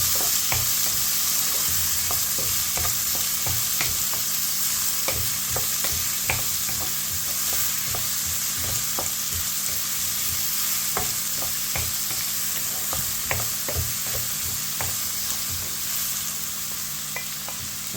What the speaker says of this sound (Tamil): சின்ன வெங்காயம், பெரிய வெங்காயம் எல்லாவற்றையும் நல்லா சேர்ந்து நாங்கள் வதக்குவோம்